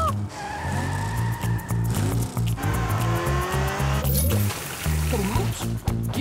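A cartoon race car revs hard with a rising, stuttering engine note, broken by squealing tire skids and bursts of acceleration, loud and up close.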